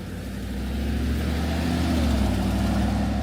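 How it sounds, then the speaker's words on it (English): Trucks driving along a street in Center Moriches on Long Island, New York, a loud, rising engine rumble that swells in the first second and holds steady as a vehicle passes close by. "So many trucks here, man."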